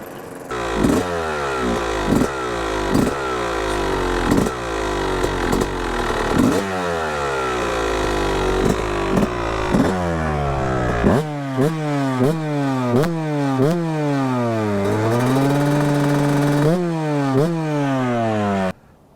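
A modified Yamaha YZ250 two-stroke dirt bike tuned for about 8 more horsepower revs hard and close, its engine pitch climbing and dropping repeatedly through gear changes, with a sharp, buzzy whine and bursts of throttle.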